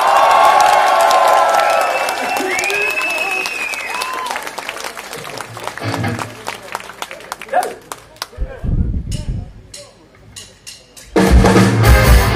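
A live concert crowd applauds and cheers for the drummer at a show in Sofia, a loud burst of clapping and shouts that thins out into scattered claps and stage noise before rising again briefly.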